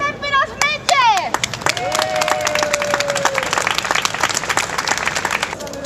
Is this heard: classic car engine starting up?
no